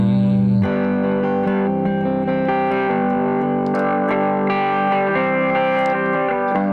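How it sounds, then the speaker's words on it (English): Electric guitar on the bridge pickup lightly picking chords with a bright, trebly tone, notes ringing and sustaining with a touch of effects, played steadily and close. "so maybe I'll just play it on that bridge pickup, but I'll just pick really lightly"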